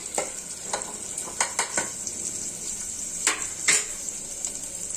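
Onions and green chillies sizzle steadily in a hot pan, with salt added, while a spoon stirs and scrapes in close, irregular strokes over the constant frying hiss.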